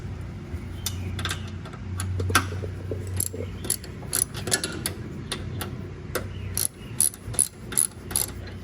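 Ratchet wrench turning bolts during steering rack replacement on a 2010–2013 Range Rover L322, short bursts of rapid clicking that grow denser toward the end, close up over a low background hum.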